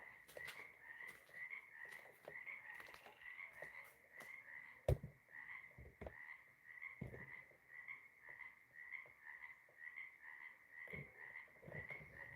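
Frogs croak from a small backyard swimming pool planted with greenery, a steady pulsing chorus with regular rhythmic calls, heard at a distance and faint, with one sharp knock partway through and no talking.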